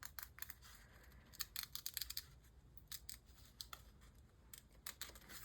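Scissors snip a paper doll cutout in a quick series of crisp, close cuts that come in irregular bursts, quiet and with no voices.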